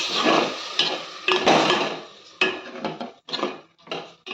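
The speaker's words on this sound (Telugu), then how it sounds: "ఈ పాలు అన్నింటి వేసుకోవాలి ఒకసారి కలపాలి" Milk is stirred into a garlic curry in a metal pan, producing loud close clattering and scraping of a utensil against the pan in uneven bursts with brief pauses.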